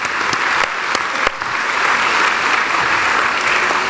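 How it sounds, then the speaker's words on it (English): Audience at a corporate awards ceremony gives a dense, steady round of applause, loud and close, with a few sharper claps standing out and no talking over it. "a very big round of applause to all the movers and shakers of the industry who are here"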